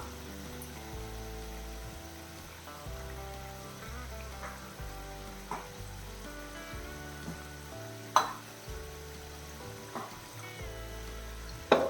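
A steady, close sizzle of kaju paneer masala simmering in a pan, with a few soft clinks and stirring knocks over a low background hum.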